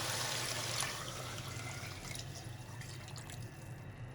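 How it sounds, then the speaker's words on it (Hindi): Three glasses of water being poured into a pot of mutton dal gosht cooking with whole tomatoes: a steady, soft splashing pour that runs unbroken and fairly faint, with no talking. "ये हमारे पास 3 गिलास पानी है,"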